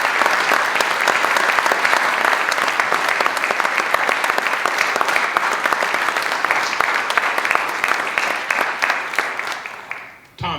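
Sustained audience applause at a community band spring concert, a dense steady clatter of many hands clapping close and loud for about ten seconds before tapering off at the end.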